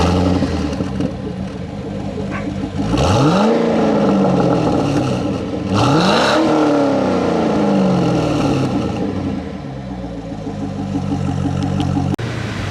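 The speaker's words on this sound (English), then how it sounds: "Okay, it's finally time to go test drive this car." A 2005 Corvette with a freshly rebuilt clutch accelerates on a test drive, its engine revving up twice in rising sweeps, each easing off between pulls, with steady road and cabin noise throughout.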